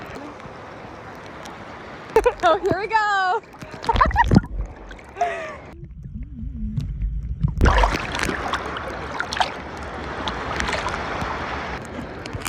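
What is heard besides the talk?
choppy water buffeting a boat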